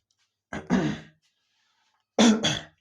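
Two short bursts of throat clearing or coughing, close and fairly loud, separated by a pause of silence.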